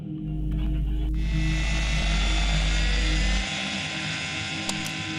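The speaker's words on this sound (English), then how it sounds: "fires up his remote-controlled helicopter at a small Brooklyn, New York park" A steady motor whine and buzzing hum from a remote-controlled helicopter running nearby in a small Brooklyn park, loud and continuous, dropping in pitch near the end.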